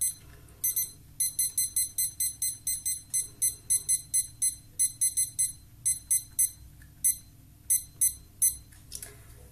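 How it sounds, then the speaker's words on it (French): A rapid series of high electronic beeps sounds in bursts, like a digital kitchen timer's buttons being pressed repeatedly, close and clear over a low background hum. "j'ai mon petit minuteur"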